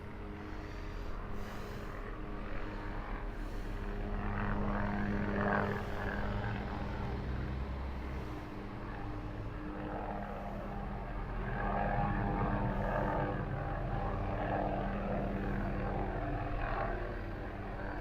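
A helicopter carrying a slung load drones steadily overhead, its low rotor rumble constant and fairly loud with a slight swell partway through.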